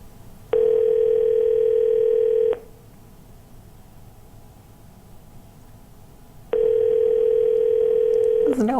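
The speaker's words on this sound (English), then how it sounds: "Well, the phone's ringing." Ringback tone on an outgoing telephone call, two long steady buzzing rings about two seconds each separated by a pause, heard clearly over a faint line hiss.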